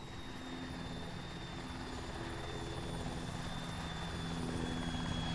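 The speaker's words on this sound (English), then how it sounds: "Everyone's loading up in this helo now." A military helicopter in the video game ARMA gives a continuous, steady rotor drone with a high turbine whine, holding an even level throughout without pauses.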